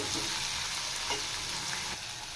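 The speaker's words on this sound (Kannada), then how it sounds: "ಗೋಲ್ಡನ್ ಕಲರ್ ಬರೋವರೆಗೂ ಚೆನ್ನಾಗಿ ಫ್ರೈ ಮಾಡ್ಕೋಬೇಕು" Chopped onions fry in oil in a pan for potato sagu, a steady, close sizzle with crackling and occasional stirring scrapes, and no one speaking.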